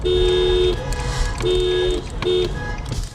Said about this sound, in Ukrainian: далі центральними вулицями і підгучні звуки клаксонів